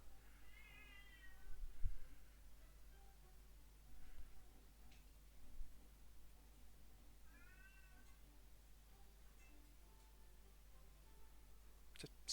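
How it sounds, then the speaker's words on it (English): A cat meows loudly twice, two drawn-out calls several seconds apart, heard faintly in an otherwise quiet room with soft clicks and a low hum. "I don't know why the cat is meowing that loudly."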